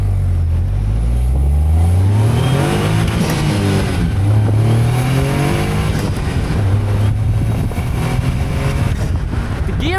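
Caterham 170S sports car with an 85-horsepower engine accelerating hard at full throttle, close and loud, its engine note climbing steeply through short, quick gear changes with rising and falling pitch sweeps across the whole stretch, no talking.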